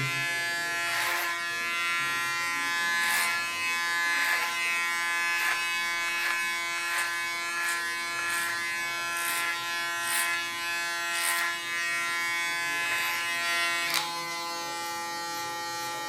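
An electric hair clipper buzzes steadily and close while cutting hair, its hum broken by regular brief strokes as it passes through the hair, with no voices.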